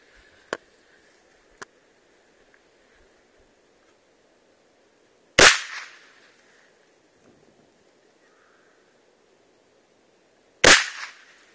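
Two loud, sharp rifle reports from a semi-automatic M1 Carbine or AR-15, spaced about five seconds apart at an outdoor range, each with a short ringing tail, plus a couple of faint clicks early on.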